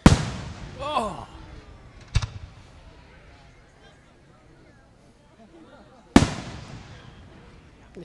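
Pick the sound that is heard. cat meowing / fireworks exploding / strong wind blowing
fireworks exploding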